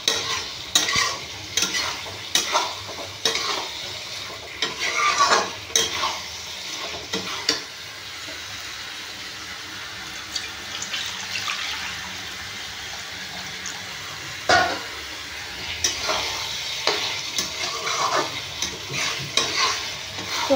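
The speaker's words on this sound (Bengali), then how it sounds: "ভালো করে মিশিয়ে ভালো করে কষাবো" Cauliflower sautéing in a pan while being mixed and stirred, a continuous sizzle broken by frequent scraping and clattering strokes of the spoon, close and moderately loud throughout.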